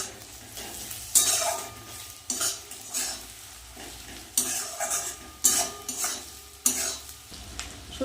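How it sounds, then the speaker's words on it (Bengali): Boiled dried lote fish (shutki) frying with onions in a pan, a steady sizzle beneath repeated scraping and stirring strokes of a utensil against the pan, close and fairly loud with no speech. "এবার আমি দিয়ে দেব এই লোটে শুটকি সিদ্ধটা এটাও আমি ভালো করে ভেজে নেবো"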